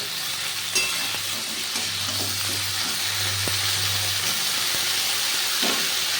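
Vegetables fry in a pan with a constant loud sizzle, occasional clinks of a utensil and a low hum underneath.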